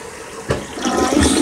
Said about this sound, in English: Put it in there and flush it away